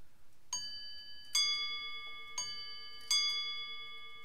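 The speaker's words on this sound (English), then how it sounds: "is a clock a home noise or a machine noise?" A clock sound effect rings out as four bright, chime-like strikes, each sustaining briefly, spaced roughly a second apart.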